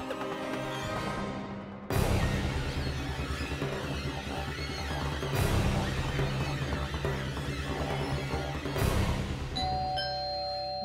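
A doorbell chimes three times at spaced intervals, each ring loud and close, over a steady background of music or room noise.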